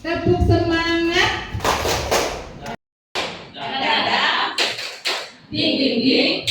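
A group of teachers and parents performs the Indonesian tepuk semangat spirit clap, sharp rhythmic claps in patterned bursts mixed with chanting voices, broken by a brief silent gap midway.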